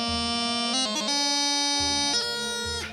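A brief phrase from Bellows Over on Highland bagpipes, a few chanter notes broken by grip embellishments over a sustained drone, loud and near.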